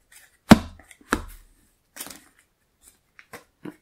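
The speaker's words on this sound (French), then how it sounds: "On remélange bien." Cards being reshuffled during a tabletop game of The Lord of the Rings card game: two sharp, loud riffling bursts in quick succession, followed by softer scattered taps and card snaps with quiet pauses between.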